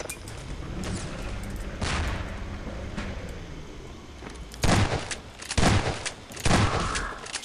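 Gunfire in Half-Life 2: rattling shots throughout, then three loud, distinct bursts of fire spaced about a second apart.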